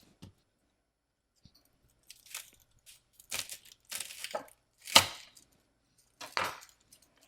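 A knife cutting a whole head of garlic in half, a series of close crunching, cracking cuts with a loud snap near the middle, separated by quiet pauses, no talking.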